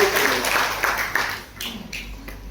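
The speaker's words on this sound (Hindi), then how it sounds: "तो एक बार जोरदार ताली भाई" Applause from an audience at a marketing plan seminar, a loud, dense wash of clapping that fades slightly over a couple of seconds, with a voice faintly under it.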